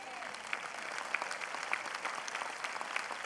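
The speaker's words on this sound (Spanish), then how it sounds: "No, hay un aplauso al Señor." A church congregation applauds the Lord during a worship service, a soft, continuous patter of clapping with a few sharper claps standing out, faint and somewhat distant.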